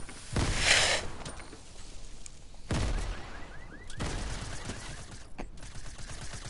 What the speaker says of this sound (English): Yeah, I've just thrown in a grenade.